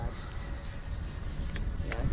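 Steady whine of an E-flite Habu 70mm electric ducted-fan RC jet flying a barrel roll outdoors in wind above trees, continuous and moderately distant, with wind noise and people talking nearby.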